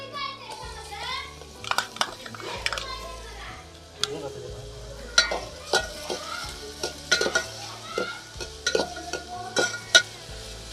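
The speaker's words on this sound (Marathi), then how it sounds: "तर टोमॅटो आणि कांदा आता आपल्याला व्यवस्थित भाजून घ्यायचा आहे" Tomato and onion sautéing in oil with garlic for a homestyle garlic-fenugreek dish, a low sizzle under repeated scraping and clinking spoon stirs, with children's voices chattering nearby.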